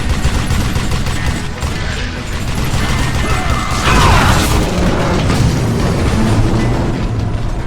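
Rapid bursts of gunfire and crashing impacts in the Western shooter video game Call of Juarez Gunslinger, loud and continuous with mechanical clatter, dense and sustained throughout.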